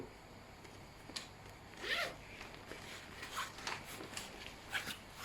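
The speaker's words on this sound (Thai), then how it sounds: "เดี๋ยวลองเปิดซิปดูดิ" The zippers of a waist bag, one large and one small inside, are pulled open in several quick scratchy strokes, close and fairly quiet with no talk.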